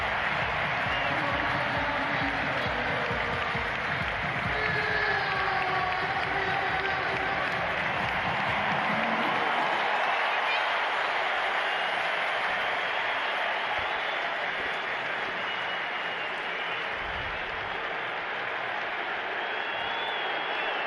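Large stadium crowd at a Phillies opening day baseball game roars and applauds as the team takes the field, a dense, steady wash of cheering that continues throughout, slightly easing in the second half.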